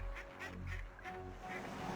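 Cartoonish ducks quacking in a video game, repeated short calls over a steady low game backdrop, moderately loud throughout.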